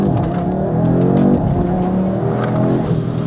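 An Audi RS3 accelerating hard, a loud, close engine roar that climbs in pitch, eases and climbs again, with a raspy exhaust tone filling the whole stretch.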